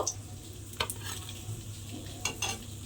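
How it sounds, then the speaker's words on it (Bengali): Pointed gourd pieces frying in oil over low heat, a steady quiet sizzle with a few sharp scrapes and clinks of a spatula in the pan, close, no voices. "গ্যাসটা লোতে দিয়ে পটলগুলো আমি এপিট ওপিট করে একটু লাল করে ভেজে নিয়েছি"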